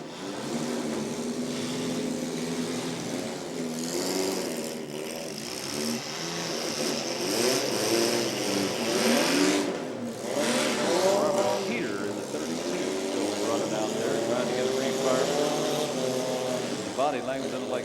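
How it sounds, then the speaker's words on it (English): A demolition derby car engine revs hard and roars steadily on the track at a county derby, loud and close throughout, with an announcer talking over the engine noise. "the RPM revved up and taking her on down the track at a high rate of speed"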